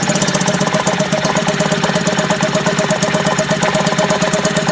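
A 1955 Elgin 2.5 hp outboard motor idles down with a steady, loud, rapid knocking putter, the uneven four-stroking beat continuous throughout, with no talk.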